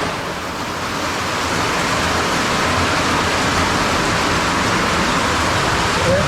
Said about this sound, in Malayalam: നല്ല മഴ പെയ്തുകൊണ്ടിരിക്കുക